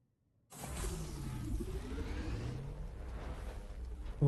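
Sand bike engine in the video game Dune: Awakening kicks in suddenly after near silence, a droning hum whose pitch sweeps up and down, mixed with airy whooshing and ending on a louder burst.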